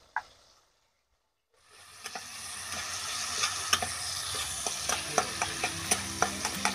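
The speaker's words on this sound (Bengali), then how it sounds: "যতক্ষণে টমেটো এবং আদা ভালোভাবে কষে আসছে" Tomato and ginger fry in a pan for a paneer curry, a steady close sizzle rising after a brief silence, with repeated sharp spatula taps and scrapes against the pan.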